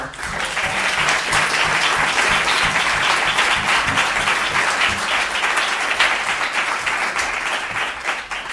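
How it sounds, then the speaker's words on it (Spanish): Sustained audience applause after a talk in a lecture series, steady and dense clapping from a large crowd, loud and continuous for the whole stretch with no speech over it. "vamos a agradecer a Gloria Gómez un fuerte aplauso"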